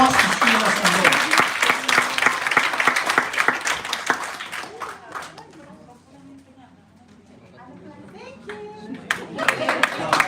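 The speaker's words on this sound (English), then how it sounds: "Let's give a round of applause to Sheila Sandor." Audience at a nursing convention and regional summit bursts into loud, dense clapping that thins and fades to scattered claps with murmured voices, then swells back up near the end.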